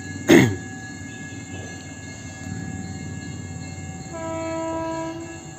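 A train horn sounds in a long steady blast, then a second horn chord joins near the end, over a constant rumbling background.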